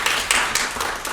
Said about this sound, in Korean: 바쁜 업무를 잠시 멈춰두고 현장의 목소리를 듣기 위해서 자리해주신 이승원 사무관님께 다시 한번 큰 박수 부탁드립니다.